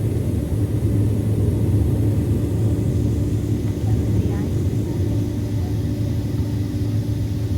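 Airliners moving around JFK airport on a rainy late-February night make a steady, heavy low rumble of jet engines throughout, with a voice talking over it.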